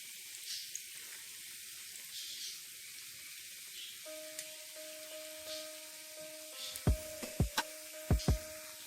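Bread pakora frying in hot oil, a soft steady sizzle with a few clinks and sharp knocks of utensils toward the end.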